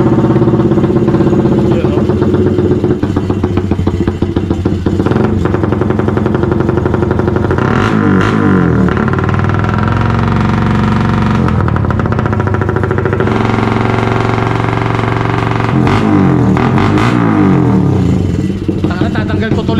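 Suzuki Raider 150 motorcycle with an aftermarket show-setup exhaust, revving loudly and steadily close by with bursts of popping around the middle and near the end, under some talk.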